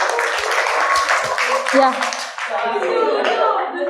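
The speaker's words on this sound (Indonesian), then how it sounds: "Kita beri tepuk tangan untuk kelompok 4" Students in a classroom clap for a presenting group, a short burst of hand claps mixed with overlapping voices and chatter, loud and close.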